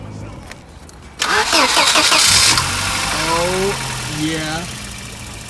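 A turbocharged Volvo red block engine cranks and catches, then settles into a steady idle with a light tick, loud and close, while people talk over it.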